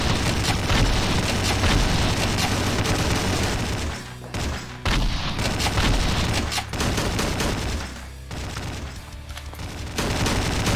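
Shotgun fire in the Slendytubbies 3 video game, a dense, loud barrage of booming blasts running almost without pause, with only a couple of short dips in the middle.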